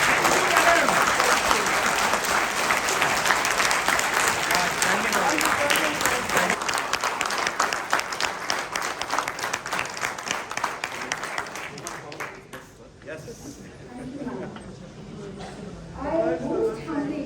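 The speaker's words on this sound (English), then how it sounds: "Special round of applause." Loud, sustained applause from a large crowd at a formal felicitation ceremony, steady for about twelve seconds before thinning into scattered claps and murmurs, with a brief swell near the end.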